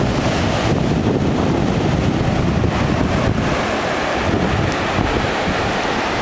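Ocean surf rolls in on a beach at LaPush, with steady wind buffeting the microphone throughout; the roar is continuous and broadband, with no talking.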